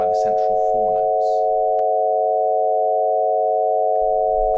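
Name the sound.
Hyasynth synthesizer chord with combination tones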